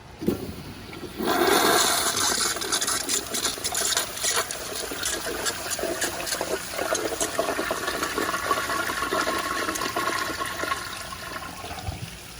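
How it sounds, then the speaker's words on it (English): Weak 3.5-gallon flush of a Kohler Kingston toilet, a sustained rushing and gurgling of water that starts abruptly after a second of quiet and runs steadily for over ten seconds, close to the microphone with no talking. "That was very weak, as you could tell. That was a very weak flush."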